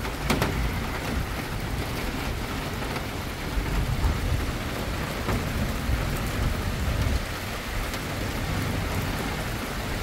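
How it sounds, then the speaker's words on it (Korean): Heavy rain pours down steadily in a dense, continuous hiss, with occasional rumbles of thunder during a passing downpour outdoors. "아, 이제 쏟아지네. 딱 나가려고 그러면 요때쯤 비가 오네."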